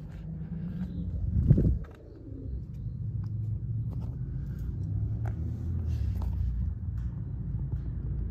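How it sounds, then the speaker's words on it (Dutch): Pigeons coo softly near an abandoned house beside a forgotten park, faint under a low rumble of distant traffic and outdoor ambience, with a brief louder whoosh near the start. "ik hoor nu al de duiven."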